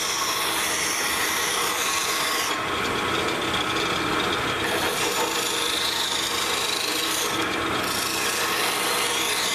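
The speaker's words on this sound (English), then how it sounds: "I'm going to take my file and clean up the outside" A hand file scrapes steadily against a metal bushing spinning in a drill press, a continuous loud rasping grind with slight shifts in pitch as the stroke changes.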